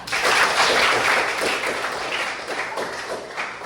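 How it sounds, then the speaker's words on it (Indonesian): An audience breaks into applause, a dense steady patter of many hands clapping that gradually thins out toward the end. "Tepukan untuk Ananta."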